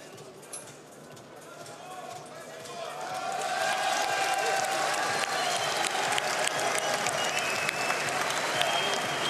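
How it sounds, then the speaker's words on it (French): An arena crowd at a combat-sports gala night applauds as a fighter leaves the hall, the clapping swelling from moderate to a loud, sustained wash partway through, with scattered cheers above it. "Et Andrei Utnik qui va quitter cette salle sous les applaudissements du public"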